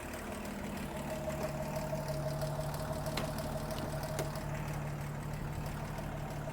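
A vintage 1980 Toyota FJ40 engine idling steadily with a low, even mechanical drone and a faint knocking rhythm, heard up close with no voices.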